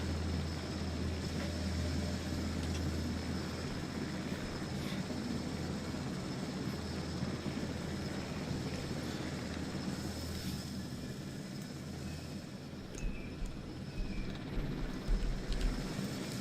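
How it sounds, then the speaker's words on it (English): A big powerful helicopter in Jurassic World Evolution lifts a dinosaur, giving a steady, loud rotor and engine drone with a low throb that roughens toward the end. "So we have a nice big powerful helicopter just to"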